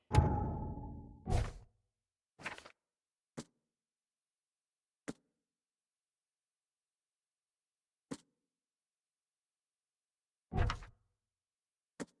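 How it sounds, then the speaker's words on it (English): A locked door in the video game The Sinking City, inside an Oakmont University lab, rattles at the start as it refuses to open. A few sharp clicks and knocks follow, spaced apart over a quiet background. "The door won't budge."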